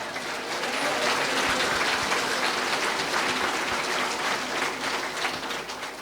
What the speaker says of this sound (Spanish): Fuerte aplausos al Señor Jesucristo.